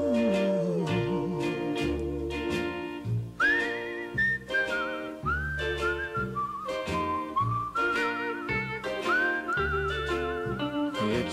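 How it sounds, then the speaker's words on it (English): A tune whistled in a melodic line, with clear sliding pitches over a steady instrumental backing of bass and chords, alone without any talk. "It's a whistling tune for walking in the night."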